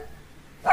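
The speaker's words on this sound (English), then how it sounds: "the dog barking is a rhythm" A dog in a children's rhythm listening game gives a single short, sharp bark near the end after a near-quiet stretch.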